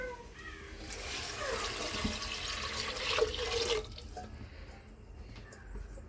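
Water pours from a container into a cooking pot for rice, a steady splashing stream for several seconds that stops abruptly, leaving a quiet room tone with faint drips.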